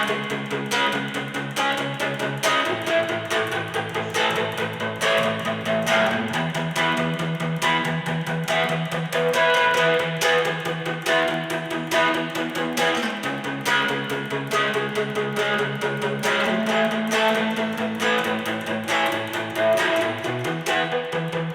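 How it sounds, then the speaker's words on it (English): Strummed electric guitar chords with a slow, sweeping flanger whoosh, steady and continuous, shifting between chords every few seconds. "so I'll turn the flanger on"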